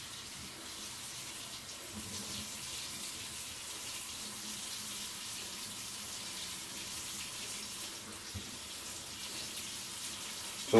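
Water runs steadily from a tap, a continuous hissing splash that stays even throughout, with no talking.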